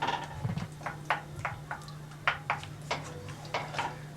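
A metal spoon scrapes tomato paste out of a can in a home kitchen, making a series of faint, irregular scrapes and clinks over a steady low hum.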